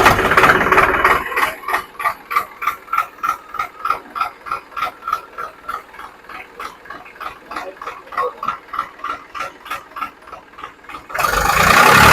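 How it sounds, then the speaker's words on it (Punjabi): An old 1983 Swaraj 735 tractor engine chugs in a steady, rapid rhythm of regular thumps, running unevenly at idle before a louder burst of noise at the end. "ਸਟਾਰਟ ਕਰਕੇ ਇਹਨੂੰ ਵਿਖਾਈਏ ਆਪਾਂ ਆਵਾਜ਼ ਇਹ ਟਰੈਕਟਰ"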